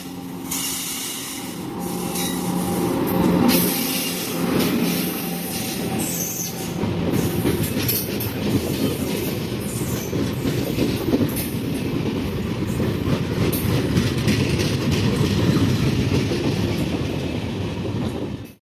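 Janmabhoomi Express standing at a busy Indian railway station as passengers board the general coaches, with steady rumble, wheel and coach noise, and scattered metallic squeals and clatter throughout, fairly loud and close, no talking.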